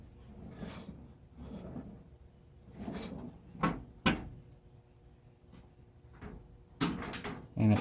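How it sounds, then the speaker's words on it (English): Ball-bearing drawer slides on a HyperTough five-drawer 20-inch steel tool chest roll open and shut several times, with short rumbling glides and sharp clacks as the drawers stop, close and loud. "the drawers do slide pretty good. I believe these are ball bearing slides."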